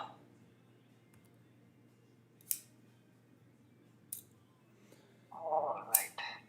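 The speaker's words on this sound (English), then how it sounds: "I got a pair of scissors." An 8-inch pair of scissors, made in Pakistan, handled with a few faint sharp clicks and a brief metallic snip near the end, over a quiet low hum.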